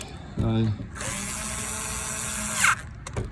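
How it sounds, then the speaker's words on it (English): A small power screwdriver fitted with a T30 star bit drives a windshield screw tight, its motor whirring steadily for about two seconds with a brief rising whine at the end, close to the mic. "I got it on my little screwdriver here, so I'm gonna go ahead and tighten those up real quick"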